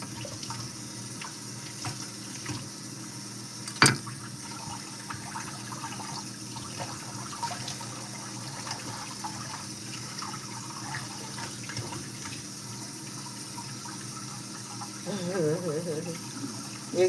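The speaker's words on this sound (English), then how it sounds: "I'm gonna rinse this off real good with the cold water" Cold water runs steadily from a tap over a reused plastic grocery bag, a continuous close hiss with a brief sharp knock and some crinkly splashing near the end.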